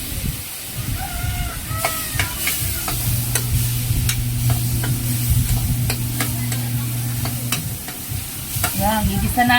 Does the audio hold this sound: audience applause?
no